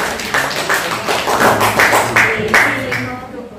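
Students in an Indonesian 8th-grade social studies class at MTsN Padang Panjang clap together, a close, lively round of hand claps over steady chatter and voices throughout.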